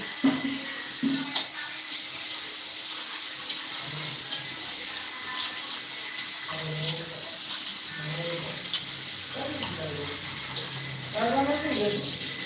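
Water runs steadily from a tap into a sink as tomatoes are washed, a continuous hiss with light splashing throughout, while someone talks briefly over it.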